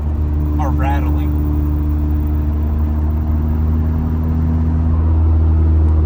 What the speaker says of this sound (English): The car is vibrating so much that even the keys are rattling.